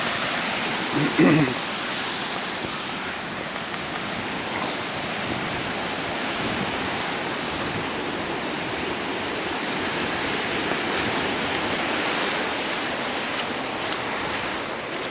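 Steady broadband rush of river water flowing, close and continuous, with a brief thump near the start.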